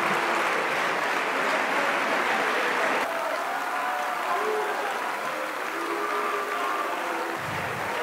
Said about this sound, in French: Il avait quitté l'Assemblée sous les applaudissements de la majorité.